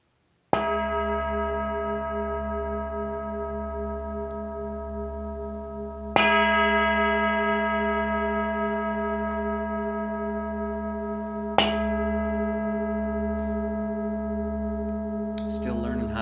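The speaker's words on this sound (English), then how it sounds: "And I'll go out by ringing the big bell." A large bell rings three times, each strike slow and resonant with a long ringing decay, spaced several seconds apart.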